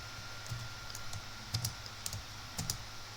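Code for an Excel sheet is typed on a computer keyboard in short bursts of close, crisp key clicks with brief pauses, against faint room hum.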